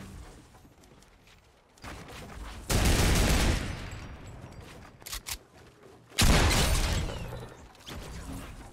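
An automated turret in Fortnite Battle Royale firing two loud sustained bursts of rapid gunfire with quieter shots between them, close and dominant, with no talking.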